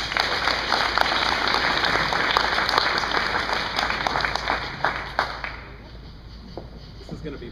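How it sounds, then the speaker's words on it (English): A room full of people claps for a speaker at an art talk, with dense, even applause that holds steady and then tapers off over the last couple of seconds. "So let's give him a round of applause."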